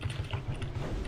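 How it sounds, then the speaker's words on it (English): Rapid keystrokes clatter on an old, loud computer keyboard, a quick run of close, crisp clicks over a low background hum. "this is my beauty, the old keyboard"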